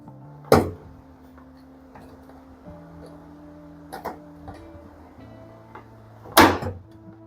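A door lock is pried loose from a Candy RapidO front-loading washing machine, giving three sharp plastic clicks and snaps spaced several seconds apart, close by and with no talking.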